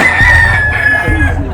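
A rooster crows close and loud in one long drawn-out call, with chickens clucking softly underneath and no one speaking.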